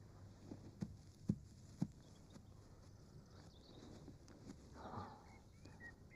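A horse's hooves clop on the ground in a mystery film set around Mount Merapi: three sharp, distinct knocks in the first two seconds, then softer scattered steps under a steady background hiss.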